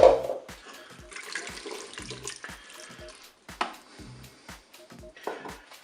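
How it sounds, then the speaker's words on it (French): Water, 200 ml with crumbled stock cube, pours into a Cookeo multicooker in short splashing trickles with soft clinks, close and quiet with no speech over it. "maintenant je vais pouvoir ajouter 200 ml d'eau"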